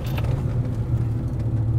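A 4th Gen Cummins diesel truck engine on 24x14 wheels with 2-inch spacers, tuned to 600 hp, runs with a deep, steady low rumble heard from inside the cab.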